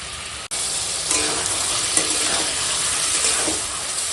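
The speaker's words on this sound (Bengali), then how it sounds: "দিয়ে সব কিছু একসঙ্গে একটু কষিয়ে নিই।" Boiled potatoes sauté with other ingredients in a pan, giving a steady broadband sizzle that holds near and fairly loud for about four seconds, briefly cut by a sharp break early on, with scattered clinks and scrapes of stirring.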